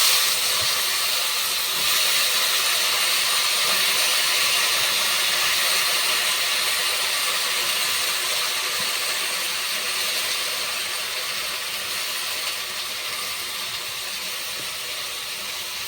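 Cut eggplant and potato frying in a pan of hot oil for a Bengali home-style fish curry with bottle gourd: a steady, loud, even sizzle and hiss that continues throughout with no talk.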